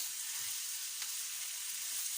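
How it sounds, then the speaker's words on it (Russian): Vegetables for Ukrainian borscht fry in vegetable oil in a skillet, giving a steady, close, even sizzle with no pauses and no voices over it. "обжариваю."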